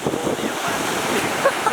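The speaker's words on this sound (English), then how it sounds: "So, this is either the Pacific or the Atlantic Ocean." Ocean waves break on a Pacific or Atlantic shore in a steady broadband wash with wind buffeting the microphone, continuous and fairly loud.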